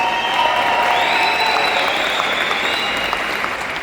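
Full audience applause in a seminar hall in Budapest, steady thick clapping with some crowd noise and a faint cheer, held loud and even throughout.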